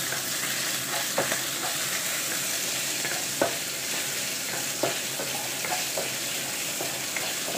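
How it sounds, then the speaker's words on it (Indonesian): Pork sizzles and fries in a pan with a steady crackling hiss, punctuated by occasional scrapes and clinks of stirring; no voices. "Ini B2 kita goreng dulu"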